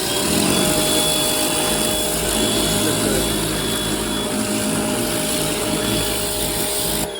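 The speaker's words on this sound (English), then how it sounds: "That's a very good power washer. it's a little cheapo from Walmart." Cheap Walmart power washer running outdoors while cleaning a fence, a loud continuous motor whine and hiss with a steady high tone, held without a break until it cuts off at the end.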